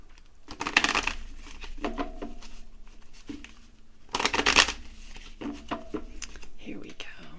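Tarot cards being shuffled by hand in a quiet room, with soft riffling bursts and papery slaps that come in two or three clusters, the strongest near the start and middle, close and fairly quiet with light breathy noise between.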